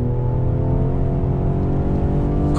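2020 Ford Explorer ST full-size three-row SUV accelerating on throttle, a loud, steady engine roar with layered harmonic drone heard from inside the cabin, no talking.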